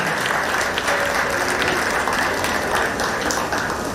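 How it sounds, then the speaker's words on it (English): A large crowd at a school sports meet claps steadily and continuously, a dense even wash of applause with no voices standing out. "A round of applause for our students"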